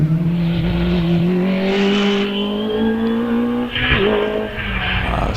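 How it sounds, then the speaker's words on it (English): A BMW M3 race car accelerates away up the Prescott hillclimb course, its engine note climbing steadily through the gears, loud and sustained with a brief shift dip and some tire noise. "gets away in his BMW"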